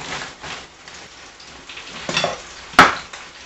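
Frozen red peppers sizzle and crackle in a hot pan with onions and ribeye steak strips for fajitas, a steady rain-like fry broken by a louder burst as they are tossed near the end.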